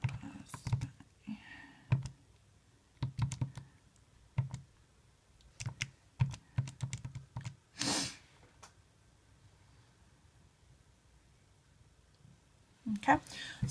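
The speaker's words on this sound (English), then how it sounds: "I'm going to type in for a second" Irregular clicks and short runs of keystrokes on a computer keyboard, close and fairly quiet, with pauses between bursts, a little breathing and some speech.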